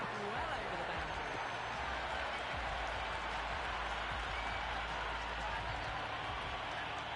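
A cricket stadium crowd at a T20 World Cup match between Nepal and Scotland at Wankhede roars and applauds continuously, a dense, loud wash of cheering with a commentator talking over it.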